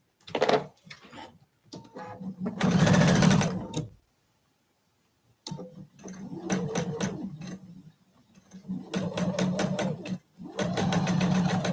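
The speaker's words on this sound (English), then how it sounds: "now I'm going to start sewing." A sewing machine stitches a quilt block in three close, rapid bursts of whirring needle chatter, separated by short pauses of near silence.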